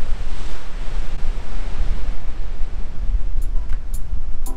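Surf rolls steadily onto a very long, open Australian beach between Nelson Bay and Newcastle, a continuous loud broadband wash with gusts of wind buffeting the microphone and a few faint higher clicks near the end.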